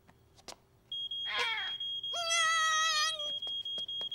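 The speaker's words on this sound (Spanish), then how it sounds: "Primero escucharemos la alarma otra vez para reconocerla." A cartoon smoke alarm sounds during a fire drill, giving steady high electronic beeps in short repeated pulses, with a brief rising squeal in the middle, fairly faint overall.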